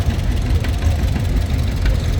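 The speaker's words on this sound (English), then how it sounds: "a unique little tractor, a John Deere model LI" A small yellow John Deere model LI industrial tractor runs in a threshermen show parade, its engine chugging loudly and steadily close by with a rough, knocking idle.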